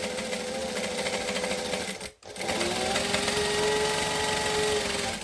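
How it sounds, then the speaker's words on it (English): A sewing machine runs steadily while basting fabric inside the seam allowance, pausing for a split second before resuming its continuous rapid stitching drone. "I'm going to baste it, which is stitching within the seam allowance all the way around the edge."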